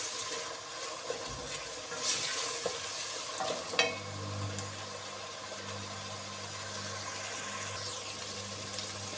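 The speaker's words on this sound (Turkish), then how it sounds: "Bunları güzel soteleyeceğiz." Onion, chili pepper and carrot being sautéed in a pan for lentil soup, a faint steady sizzle with occasional scrape and stir clatter from a utensil.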